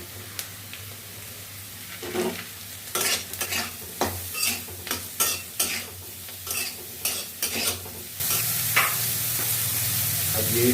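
Carrot, capsicum and mushrooms being stir-fried in a home kitchen pan, with a steady low sizzle under a series of rhythmic scraping and clattering stirs, then a louder, fuller hiss of frying in the final seconds.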